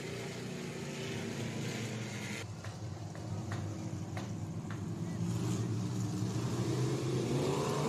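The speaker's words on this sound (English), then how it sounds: "Green flag in the air. Josh Howell on the gas." Several dirt track race cars accelerating hard together at the green flag at Southern Raceway, a loud sustained engine roar that swells and builds steadily over the clip.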